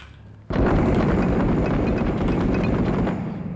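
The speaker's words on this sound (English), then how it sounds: "someone fired a grenade." A grenade explodes in Six Days in Fallujah, a sudden loud blast that bursts in and rumbles on heavily for several seconds, with no talking.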